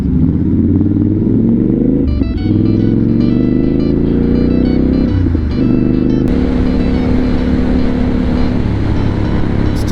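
A Triumph Scrambler 1200 motorcycle engine revs loud and close while riding, a steady throaty roar with pitch rising through the gears and a brief gear-change dip, with strong wind rush throughout.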